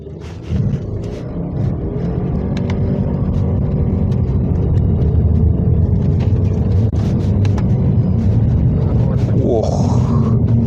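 Subaru Levorg STI wagon launching hard from a standstill, its engine droning loud and close as revs build steadily, with a driver speaking inside the cabin.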